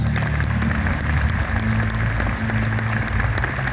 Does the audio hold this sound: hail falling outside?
no